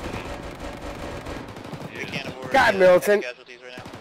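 Burst of gunfire in an Arma military video game, loud crackling shots clustered late in the clip and sounding fairly close, after a stretch of background noise, with someone shouting briefly.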